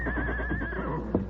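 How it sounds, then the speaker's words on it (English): A horse lets out a loud, wavering whinny that trails off, followed by a brief snort or thump, close to the listener. "Hold the horse, Tonto."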